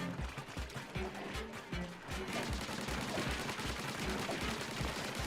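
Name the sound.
explosions in the video game Splatoon Raiders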